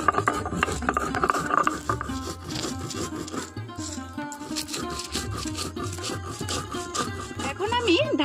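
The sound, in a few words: grinding roasted spices on a sil nora grinding stone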